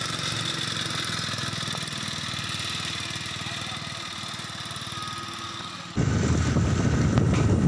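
Small Honda vibrator engine fitted to a homemade motorised bicycle, running with a steady buzzing drone throughout, rising to a louder, rougher roar in the last couple of seconds.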